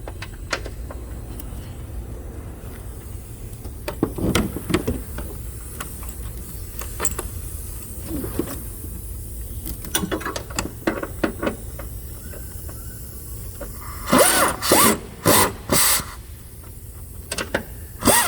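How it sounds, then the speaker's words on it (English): A socket wrench tightens the electronic brake control module bolts on a 2014 Chevrolet Equinox, with scattered clicks and small metallic handling sounds, then a clear run of ratcheting bursts near the end. "We're going to take the socket and tighten the front one first."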